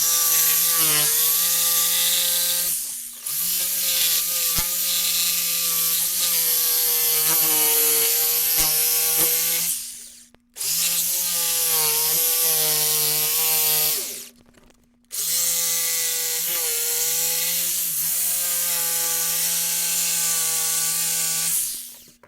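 Hand saw cutting wood for a plant shelf bracket: steady back-and-forth strokes in three long bursts separated by brief pauses, close and loud, with a constant low hum underneath and no talking.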